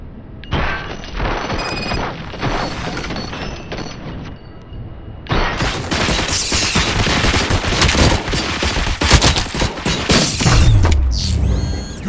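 Gunfire in the RoboCop: Rogue City video game rattles in dense, continuous bursts mixed with mechanical clanks and booms, loud and close, with a short lull partway through.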